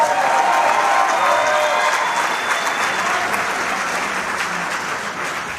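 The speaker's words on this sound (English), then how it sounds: "we can go ahead and give a round of applause after each one is mentioned" A crowd gives sustained applause for all-tournament team members at a school basketball tournament, dense clapping with light cheering that holds steady and only slightly eases over several seconds.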